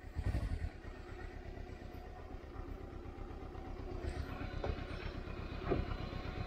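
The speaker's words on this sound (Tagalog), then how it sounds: "nandiyan na yung tractor" An engine runs steadily with a low, throbbing rumble on a landslide-blocked mountain road in Abra. Its loudness stays even throughout, with a few faint knocks above it and no talk.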